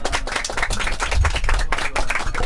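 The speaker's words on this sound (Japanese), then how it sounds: "横田さんに拍手" Close, lively audience clapping in a small live jazz bar in Kyoto, a dense burst of hand claps with a few voices mixed in.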